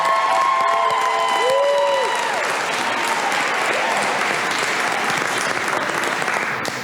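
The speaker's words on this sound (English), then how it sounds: "Let's give a big round of applause." Applause for a champion high school marching band at a Newark school board meeting, steady dense clapping from a crowd filling the room throughout, with a few cheers rising over it at the start.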